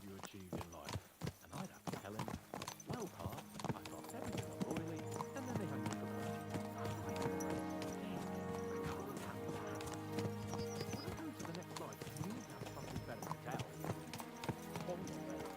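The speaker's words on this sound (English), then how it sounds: "What a beautiful horse." Hooves clip-clop steadily with a horse whinnying in a medieval role-playing game set in Bohemia, close and continuous under dense game sound and music while people talk throughout.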